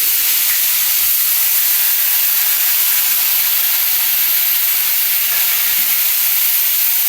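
Ginger and onion sizzle steadily in hot oil for a potato curry, a loud continuous frying hiss with no talking.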